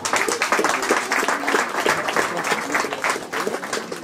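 Congregation at a church service clapping strongly and continuously for a few seconds, a dense, close, rhythmic applause with voices mixed in.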